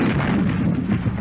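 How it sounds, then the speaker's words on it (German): A captured English artillery gun fires in a wartime newsreel, giving a dense, rumbling low boom that fills the short moment at steady loudness. "Ein erbeutetes englisches Geschütz."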